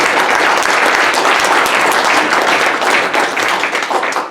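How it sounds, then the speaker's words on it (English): An audience at a public hearing in Johnson City bursts into sustained applause, dense clapping filling the room steadily throughout and tapering slightly at the end. "Give Michael a round of applause."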